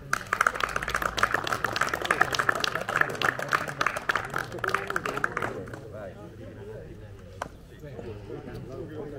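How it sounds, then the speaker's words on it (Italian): Audience applause at a clay shooting competition prize ceremony, a dense, rapid clapping that runs for several seconds, then fades to scattered claps under an announcer's voice. "Ancora un bel applauso."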